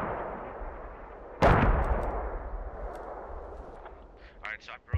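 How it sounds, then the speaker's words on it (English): A mortar shell lands in the Squad military game with one loud, deep blast that rolls off into a long rumbling decay, while a voice speaks faintly near the end. "More mortars landing here in the north."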